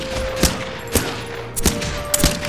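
Gunfire in a Minecraft-style game fight against Siren Head, heard as a few sharp, evenly spaced shots cracking out close and loud over a faint steady tone, with no voices.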